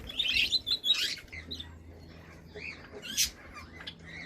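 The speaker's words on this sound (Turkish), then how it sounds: "Bakın böyle gökkuşağı ispinozu, java ispinozu var. Muhabbet kuşu var." Cage birds, Gouldian finches, Java sparrows and budgerigars, chirp and tweet in bursts of bright high calls, some sharp squeaks standing out over a faint low hum.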